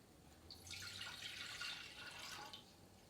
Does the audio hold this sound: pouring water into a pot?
yes